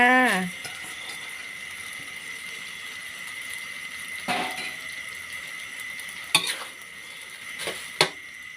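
Glass noodles stir-fried with canned fish in a pan give a steady, soft sizzle, with a few sharp clinks of a utensil against the pan near the end.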